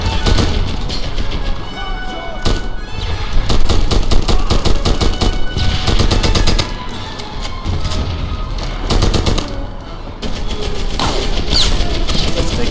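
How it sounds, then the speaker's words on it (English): Loud, near rapid-fire bursts from World War II weapons in Medal of Honor Airborne, a shooter game, continuing across the clip with brief pauses between volleys and crashing impacts mixed in. "I have no clue that I'm shooting."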